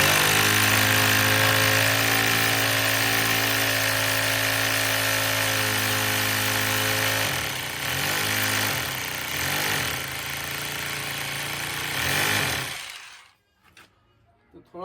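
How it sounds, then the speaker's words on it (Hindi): A power drill bores holes for an antenna mount, a loud steady grinding whine that runs continuously for about seven seconds, then stutters in short bursts before cutting off into near silence. "तो सभी ड्रिल हम कर लिए हैं"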